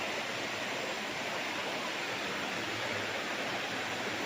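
A river in Liliw, Laguna rushes steadily and continuously, a dense broadband wash of flowing current, fairly faint, with no voices.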